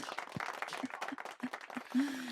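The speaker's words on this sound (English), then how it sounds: "Give the man a round of applause." A podcast audience gives a round of applause for an introduced guest, scattered claps at moderate level with short tonal bursts mixed in and a voice rising near the end.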